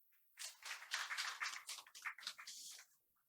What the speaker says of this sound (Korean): 박수가 갈수록 적어지는 것 같습니다.